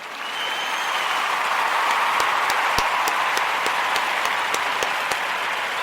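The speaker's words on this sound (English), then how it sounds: "Let's give that a round of applause." Steady round of applause from an audience, dense and sustained throughout with a few sharper individual claps standing out, no voices over it.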